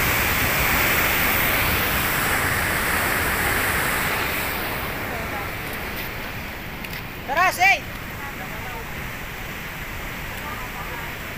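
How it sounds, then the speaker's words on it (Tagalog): A strong water current rushes at Cong Dadong Dam in Arayat, making a steady, loud broadband roar that eases slightly partway through. A brief voice cuts in once in the middle. "Ayan po dito, napakalakas ng agos ng tubig mga kapari ko,"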